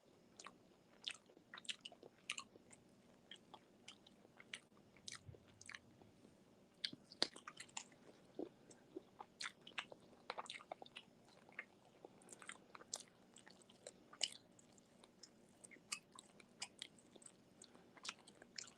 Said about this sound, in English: I'm chewing this chicken.